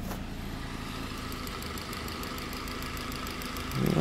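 A Saab car engine with an LPG conversion idles with a steady rough, slightly shaky thrum and knocking, being switched from petrol to gas. Near the end a sharp burst of clatter comes in over the idle.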